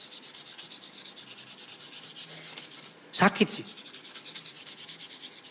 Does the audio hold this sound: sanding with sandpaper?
yes